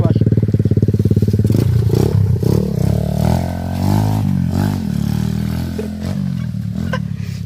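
A KLX trail motorcycle fitted with a Honda Megapro engine rides an off-road trail, its engine loud and close throughout, steady at first and then revving up and down in pitch, with voices mixed in.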